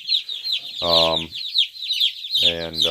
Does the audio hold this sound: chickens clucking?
yes